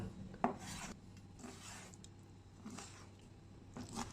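A sharp knife slices through chicken on a board in four slow, evenly spaced cuts, quiet and close.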